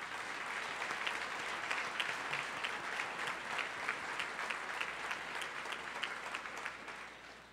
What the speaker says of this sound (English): Please join me in a warm round of applause for all of our corporate and media sponsors.